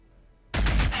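Lascannons fire in a Warhammer 40,000 game battle of Orks against Tyranids: a sudden loud, sustained blast of broadband fire erupts midway and holds, throbbing at a steady pulse.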